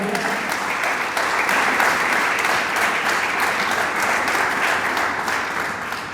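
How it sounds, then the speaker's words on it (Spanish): A church congregation claps together in a loud, continuous burst of applause, dense and even throughout, with a rhythmic pulse in places. "Dele palmas al Señor"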